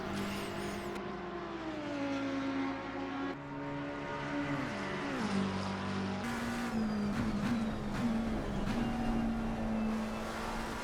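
A race car engine in Assetto Corsa Competizione at Monza screams and shifts through gears, with revs rising and dropping, downshift blips and brief tire noise, loud and continuous from the cockpit.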